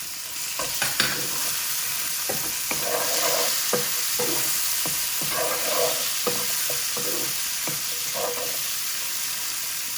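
Chopped tomatoes going into frying onions for chicken biryani: a continuous loud sizzle with repeated scraping stir strokes through the pan, close up, with no voices.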